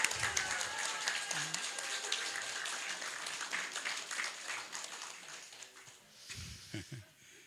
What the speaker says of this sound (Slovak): Dajme mu veľký potlesk.